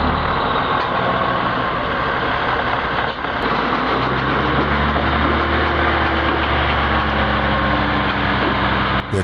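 A heavy oversized truck hauling a long multi-axle trailer rumbles steadily and loudly close by, its engine drone continuous throughout with no talk over it.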